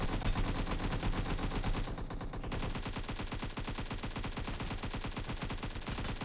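Sustained automatic gunfire in PUBG Mobile's zombie infection mode, a rapid, even rattle of shots running nearly continuously, loud and close, with a brief break in the pattern partway through.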